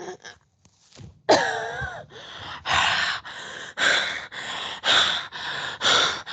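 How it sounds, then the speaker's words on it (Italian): A woman under hypnosis gasps and chokes for breath in a long series of loud, rasping, strained inhalations, coming in a steady rhythm one after another, with no talk over them. "Vedi come soffoca?"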